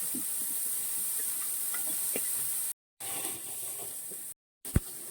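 Mushrooms fry in a pan with a steady, even hiss, interrupted by two brief silent gaps and ending in a single sharp clink.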